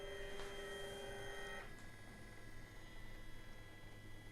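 A cheap Tina 2 3D printer runs its first print straight from shipping, giving a steady close mechanical whir with tonal stepper-motor whine that shifts pitch partway through over a constant low hum.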